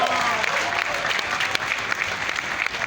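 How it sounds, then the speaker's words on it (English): An audience claps for guests, a dense, sustained round of applause at close range with a hint of crowd noise underneath. "Let's give the guests a big round of applause for being here."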